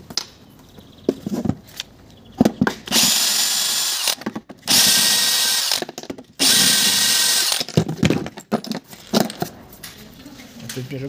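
A power drill unscrews a frame hinge on a door, several loud whirring bursts with pauses between them and some handling clatter in the gaps.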